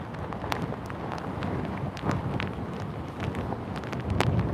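Strong Hurricane Ian wind batters the microphone in St. Augustine, a steady roaring buffet with sharp gusty pops throughout and no speech.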